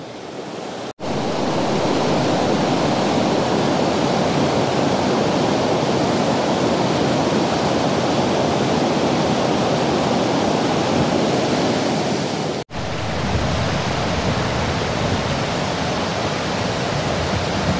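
Waterfall at Watersmeet, a steady broadband roar of falling water heard up close, loud and continuous with two brief dropouts, no voices.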